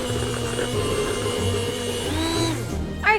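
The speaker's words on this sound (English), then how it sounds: "we're now going to get our beater and we're going to mix it around again" Electric beater whirring steadily through gingerbread dough mixed with ground ginger, a continuous close motor drone whose pitch dips and shifts as the beaters work, then cuts off with a brief clatter at the end.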